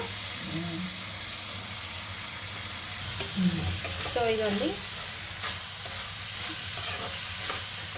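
Brinjal pieces dropped into a hot pan and frying, a constant loud sizzle with stirring scrapes and clatter in the middle, while someone talks briefly.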